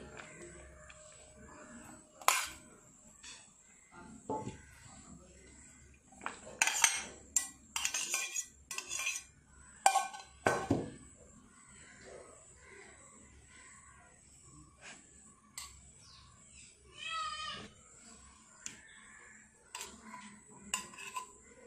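A utensil clinks and scrapes against a bowl in irregular bursts, close up, mixing egg bread ingredients, with stretches of quieter stirring in between.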